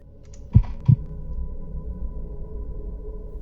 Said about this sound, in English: I think there's a heartbeat.